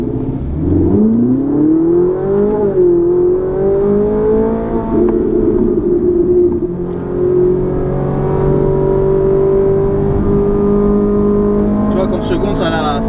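Engine of a Ferrari 458 or Lamborghini Gallardo on the Lohéac circuit, revving up loudly in second gear and then holding a droning tone as engine braking slows it, close and continuous inside the cabin, with people talking over it.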